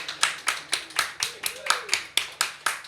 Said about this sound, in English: Can we give a round of applause again for Uhouse?